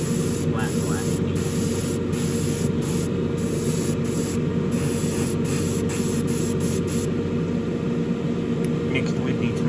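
Steady hiss of an airbrush spraying Tamiya XF1 flat black acrylic paint thinned with X20A thinner onto a Revell 1971 Boss 351 Mustang model kit, continuous and close, with brief breaks in the spray.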